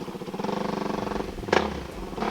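Motorcycle riding along a wet, muddy cemented road after heavy rain in a rural barangay near Tagaytay, its engine droning steadily and close with a brief louder burst near the end.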